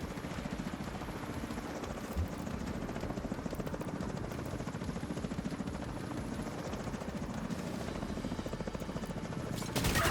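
A helicopter approaching in a video game, its rotor throbbing in a steady, continuous drone that stays fairly faint and even throughout, with no speech.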